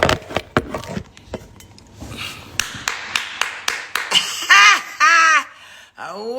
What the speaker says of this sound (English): Give you a clap again.